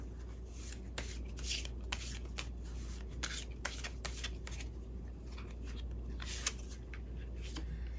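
Playing cards shuffled for a Korean fortune reading, giving a run of quick, crisp riffling and flicking bursts against a steady low hum, close and fairly quiet, with no one talking.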